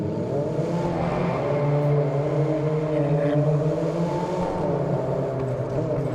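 A car engine with a loud exhaust drones steadily in the Test Drive Unlimited Solar Crown racing game, a close, continuous revving tone with rising and falling harmonics and no talk over it.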